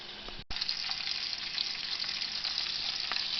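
Bacon frying in a pot for chili, a steady close sizzle and crackle that carries on after a sharp brief break near the start.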